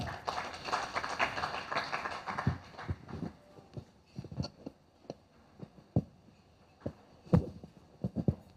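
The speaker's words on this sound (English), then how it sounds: "A round of applause for that." Applause from an event audience opening with a burst of dense clapping, then thinning into scattered, irregular individual claps that fade out over several seconds.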